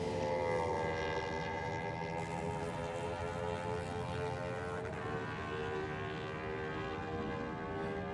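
A drag racing motorcycle engine revs at high RPM at Sydney Dragway, a sustained, steady harmonic whine held for several seconds at moderate distance, with no talk over it.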